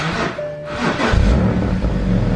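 Car engine revving through an exhaust pipe drilled with six large holes, a deep rumbling rise that swells after a brief lull and holds loud and close.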